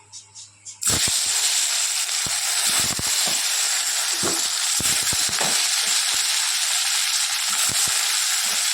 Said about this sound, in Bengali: মাছ তেল গরম হয়ে গেছে, মাছটা দিয়ে দিই।